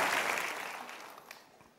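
A short burst of applause from a crowd, loud at first and then tapering off quickly.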